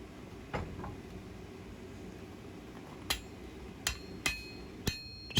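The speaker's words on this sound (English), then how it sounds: "Gonna have to go back to the anvil and do a little adjusting and take out those hammer marks." A hand hammer strikes a forged steel full-tang integral bolster knife blade on an anvil to smooth out hammer marks. After a quiet stretch, about five sharp, ringing blows land at irregular intervals.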